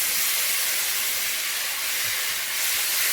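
Tomatoes tipped into hot oil and spices for chole, giving a loud, even, hissing sizzle that carries on without a break.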